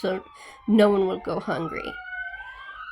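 An emergency vehicle siren wails outside near a senior citizen home, rising and sweeping in pitch beneath and after a person talking nearby.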